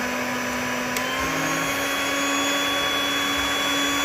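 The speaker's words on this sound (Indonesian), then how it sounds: "Jadi putih telur kita mixer sampai mengembang dan kaku." An electric hand mixer whipping egg whites whirs continuously at a steady high pitch, loud and close, with a constant motor drone.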